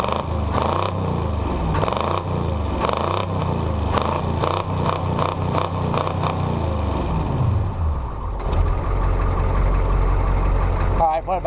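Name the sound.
engine idling on a cold start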